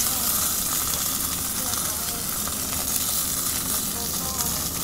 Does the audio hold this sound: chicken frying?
yes